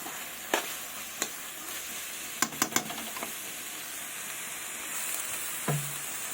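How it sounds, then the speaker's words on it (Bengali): Spinach and spices in a pan give a soft, steady sizzle, broken by a few sharp clicks and clatters of utensils, with a brief hiss as a little water is poured in, and no talk. "এবার আমি একটু অল্প পরিমাণে জল অ্যাড করব, জল দেব।"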